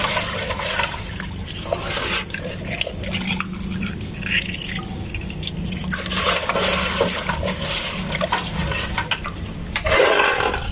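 Water splashing and pouring over rinsed eggshells in a container, a continuous wet, sloshing sound with irregular surges and small clinks, close by.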